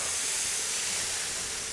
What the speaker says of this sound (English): we're gonna spray this down. It's gonna sizzle, it's gonna steam